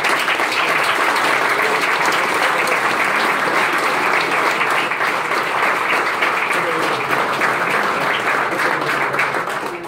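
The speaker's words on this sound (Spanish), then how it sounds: "Agustín Datelli y a Hugo Moyano, para quienes pido un fuerte aplauso" Strong, sustained applause from an audience at a political talk at a Peronist party venue, steady dense clapping filling the whole stretch with some crowd noise beneath.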